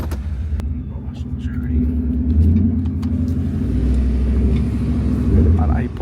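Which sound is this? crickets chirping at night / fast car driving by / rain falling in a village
fast car driving by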